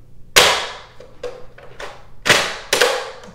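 A Rheinmetall MG3 mini toy dart blaster with live-cartridge feed is worked by hand, giving five sharp plastic snaps and clacks spaced irregularly over a few seconds, close and clear with no talking.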